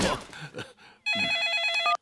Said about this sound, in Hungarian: Papa malac mobiltelefonja csörög.